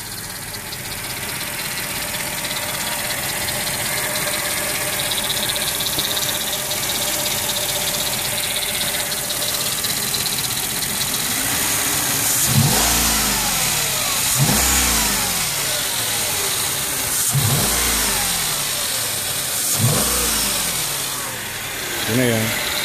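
A Mercedes ML55 AMG engine, just power washed, idles steadily and then gets several sharp revs in the second half, each a quick rise and fall, heard up close with a voice talking at times.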